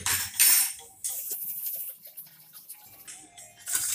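A spoon clinks and scrapes against a bowl while spices and salt are stirred into yogurt for dahi vada, with several sharp metallic taps between softer stirring sounds, close and fairly quiet.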